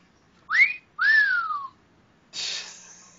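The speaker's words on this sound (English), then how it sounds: "it was supposed to be a whistle" A short whistle effect: two separate pitched whistles, the first sliding upward and the second gliding downward, followed by a breathy, airy hiss, all clear and close against a quiet background.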